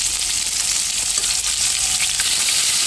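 Koi fish frying in hot oil with salt and turmeric, a steady close sizzle and crackle filling the whole stretch without pause, no voices.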